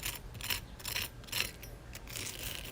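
A knife cuts into a crispy oven-baked chicken tender, giving a few close, brittle crunching crackles in quick bursts over about three seconds, fairly quiet with no talking.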